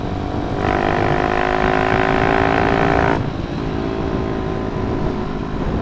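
An old MX motorcycle with a 200cc engine runs steadily up close, rising to a higher-pitched rev for a few seconds before settling back to a rough, loud idle.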